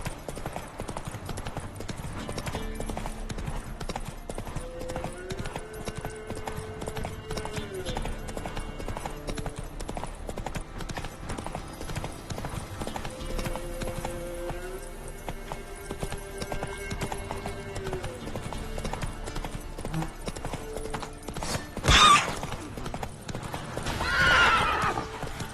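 Roach the horse galloping in The Witcher 3, steady rapid hoofbeats pounding under soft game music, followed near the end by a loud close neigh and a second whinny.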